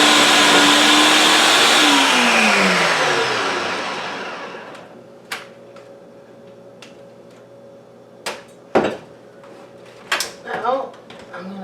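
A food processor whirs loudly as it chops red onions for coleslaw, its steady motor roar sweeping down in pitch before cutting out after about four seconds, followed by scattered clicks and clunks of handling the machine.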